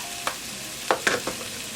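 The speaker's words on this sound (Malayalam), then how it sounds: "അതിട്ട് ഇതിൻ്റെ പച്ച മണം മാറുന്ന വരെ നമുക്ക് ഇളക്കി കൊടുക്കാം കേട്ടോ." Ginger garlic paste stirred into onions frying in a pan: a few scattered spoon scrapes over a soft sizzle, close and quiet, with no talking.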